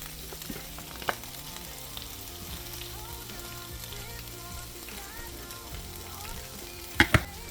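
Ham frying in a pan gives a quiet, continuous sizzle with faint crackles, and two sharp knocks come near the end.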